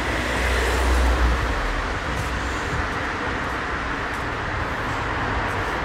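Steady road traffic streams past near a tunnel in Shizuoka, a dense continuous roar of cars and heavier vehicles with no talking.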